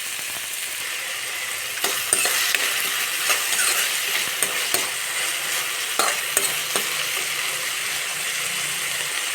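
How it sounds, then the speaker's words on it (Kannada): Tomato frying in a pan with methi and garlic, a loud continuous sizzle broken by repeated scraping and clinking of a spatula stirring, no talking. "ಇಲ್ಲಿ ನೋಡಿರಿ, ಟೊಮೆಟೊನೂ ಸ್ವಲ್ಪ ಫ್ರೈ ಆಗೈತಿ."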